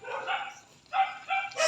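A household dog barks in short bursts, three or four loud, close yaps with brief gaps between them, with no talk over them.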